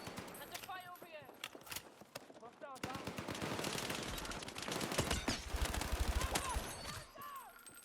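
Battlefield REDSEC multiplayer combat, with rapid automatic gunfire crackling in repeated bursts throughout, sometimes dense and overlapping, mixed with footsteps and other battlefield noise while players talk over it.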